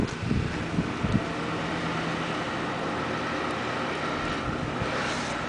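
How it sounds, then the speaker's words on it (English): Wind blows steadily across an outdoor spot where a homemade lawn-drum forge is being tested, a loud continuous rushing roar with a few low buffeting thumps early on and no talking. "Would it help if the wind would quit blowing?"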